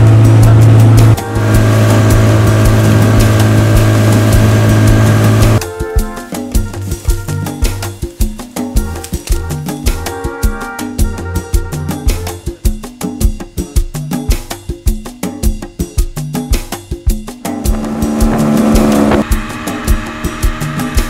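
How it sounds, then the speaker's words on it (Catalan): A motor launch running on a jungle river, its engine droning loud and steady throughout, with shifting pitch and a rougher, pulsing stretch through the middle. "i deixar que Ainhoa ens mostri les seues facultats per manejar la llanxa."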